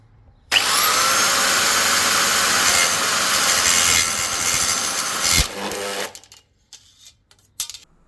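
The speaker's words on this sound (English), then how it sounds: "the first step is going to be to cut the aluminium profiles" A power tool cuts through aluminium profiles in one continuous loud, high-pitched grinding burst of about five seconds, then stops abruptly, followed by a few quieter handling clunks.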